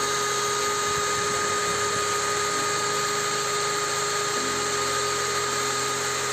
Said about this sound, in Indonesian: kalau kita nyalakan untuk burnya, gerakannya jadi maju mundur ya rekan-rekan ya untuk bagian adapternya seperti ini